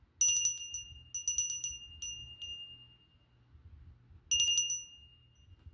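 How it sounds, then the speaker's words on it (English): An antique handheld bell rung for energy cleansing, bright metallic rings in quick clusters that sustain a clear tone and fade, with a pause before a final ringing burst; close and fairly quiet. "This is a magical, ancient bell."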